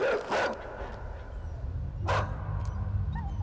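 A dog barks a couple of times in the video game Inside, short sharp yelps standing out over a low ambient rumble with no talk.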